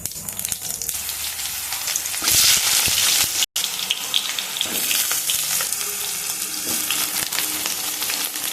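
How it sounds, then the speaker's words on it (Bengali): Potato pieces frying in hot oil with bay leaves, dried red chili and cumin seeds, a loud continuous sizzle with a brief sharp break partway through and occasional stirring scrapes. "এবার আলুগুলো ভেজে নেব।"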